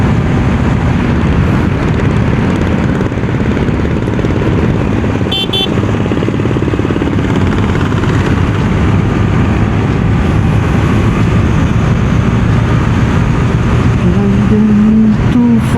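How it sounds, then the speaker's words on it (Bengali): A motorbike rides along a road with a steady, loud engine drone and heavy wind rush across the microphone, continuous for the whole stretch with no talking. "মনে হচ্ছে যেন আমি সুপার বাইক চালাচ্ছি।"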